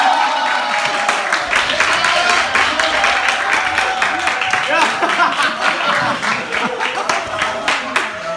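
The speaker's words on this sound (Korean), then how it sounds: "박수" A church youth group's winter retreat variety show ends in a burst of audience applause, dense and loud throughout, mixed with crowd chatter and laughter.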